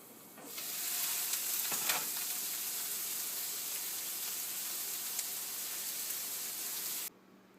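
Stir fry of underripe tomatoes and wilted celery sizzling steadily in a pan, a loud continuous broadband hiss with a brief stir near the start, cutting off abruptly at the end.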